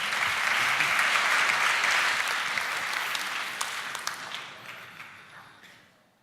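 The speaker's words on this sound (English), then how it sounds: "Give him a round of applause." Audience applause for a presenter at the Present Your Startup Global 2018 pitch finals, a full burst of crowd clapping that gradually thins and fades out to near silence by the end.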